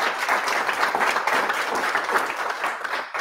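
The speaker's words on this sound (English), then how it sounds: "Can you give Nola a hand of" Audience applause for a presenter at a lead-generation talk, steady dense clapping filling the whole span at an even, fairly loud level with no voices over it.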